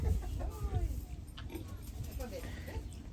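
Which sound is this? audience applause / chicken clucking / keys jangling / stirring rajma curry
chicken clucking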